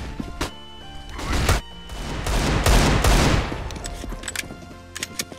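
Bursts of gunfire from Counter-Strike: Global Offensive ring out, with a sharp opening shot followed by heavier rattling volleys in the middle and scattered single cracks trailing off. The shots sound close and loud.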